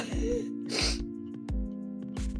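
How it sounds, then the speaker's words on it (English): A person sniffles several times in short nasal bursts over a steady tonal background, with the sniffs close and fairly loud. "there I go with the sniffles again"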